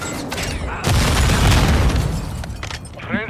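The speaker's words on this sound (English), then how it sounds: "Cruise missile deployed." A cruise missile strike in a Call of Duty ranked match: a heavy booming explosion that rumbles for over a second, with scattered crackling bursts around it.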